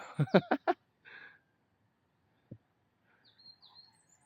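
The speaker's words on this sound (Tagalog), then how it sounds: "Narinig niyo yung mga ibon." Several faint, high bird chirps and short calls scattered through a quiet outdoor mountain trail scene on Mt. Binacayan or Mt. Balakbak, with a few louder voiced bursts at the start.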